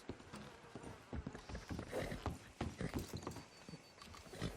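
Horse hooves clip-clop in Red Dead Redemption 2, an irregular run of soft thuds and clacks at close range, fairly quiet, with a little mechanical rattle alongside.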